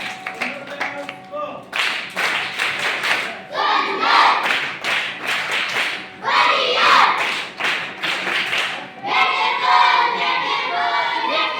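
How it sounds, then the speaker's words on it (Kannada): Loud, sustained applause from a crowd honouring the president of a government employees' association at a monthly religious gathering, dense clapping in several waves that rises and swells, with no talk. "ಸರ್ಕಾರಿ ನೌಕರರ ಸಂಘದ ಅಧ್ಯಕ್ಷರಿಗೆ ಒಂದು ಜೋರಾದ ಚಪ್ಪಾಳೆಯನ್ನು"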